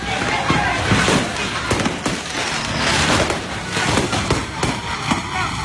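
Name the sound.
fireworks exploding in burning shop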